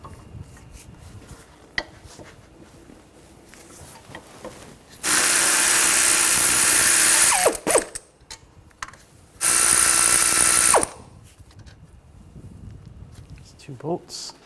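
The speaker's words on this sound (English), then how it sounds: "using an 18mm socket, we're going to take the two caliper bracket bolts out" An 18mm socket on a ratchet loosens the caliper bracket bolts on a 2013-2019 Ford Escape, with two sustained loud bursts of rapid ratcheting clicks of a few seconds each, separated by quieter mechanical handling.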